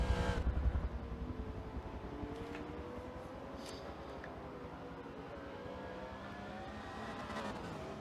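A Corvette GT1 race car in a racing game speeds down a straight at the Nurburgring, its engine a steady, droning roar held at moderate level throughout, without voices.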